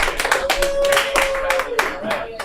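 Audience clapping for comedian Robert Rule at a live comedy show, a dense patter of hands at steady loudness with a voice or cheer rising over it.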